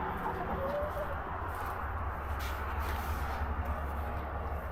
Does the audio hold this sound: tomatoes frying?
no